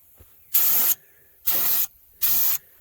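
Three separate bursts of hissing from a spray gun set to a narrow fan, each roughly a third of a second long with short gaps between, while paint goes onto the rockers and cab corners of a Ford F-150.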